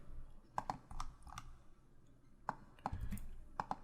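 Sparse keyboard key clicks come in short bursts with pauses between them, quiet and close.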